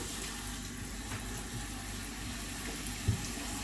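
Water runs from a kitchen tap and splashes into a sink during washing, a steady close hiss with one brief louder splash near the end.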